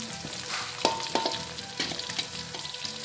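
Chilies sauté for sambal in a hot pan over a strong flame, a steady close sizzle broken by a few sharp scrapes and clinks of a spatula against the metal, with no voices.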